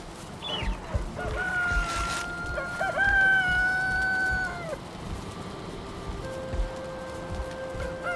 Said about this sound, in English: Hello, all you chickens.